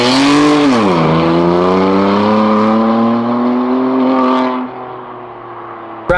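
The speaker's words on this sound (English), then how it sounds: "get some clips of this car screaming at higher RPMs instead of just giving it a few blips" A BMW M4's engine revs loudly at high RPM, a strong rising and sustained droning scream that dips, then falls away near the end.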